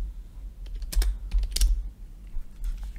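Typing on a computer keyboard, a short run of close key clicks with a few louder taps, irregular in rhythm, over a low steady hum.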